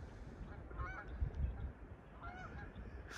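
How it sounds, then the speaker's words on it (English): Geese honk a few times in the distance, faint calls passing over a steady low rumble of outdoor background noise. "Got some geese flying through the shot."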